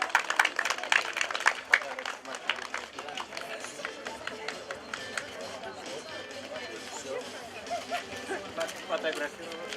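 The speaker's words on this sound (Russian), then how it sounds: "Аплодируем." Audience applause at a municipal school cycling-safety team tournament in Adygeysk, as a third-place school team is called forward: a steady wash of clapping from a crowded hall, fairly faint and continuous for about ten seconds.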